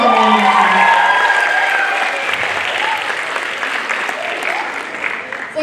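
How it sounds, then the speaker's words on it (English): Audience at a junior high school play in Nairobi applauds steadily, a dense, full-room clapping that starts loud, eases slightly and carries on to the end, with some voices and cheers mixed in. "Let's give them a round of applause."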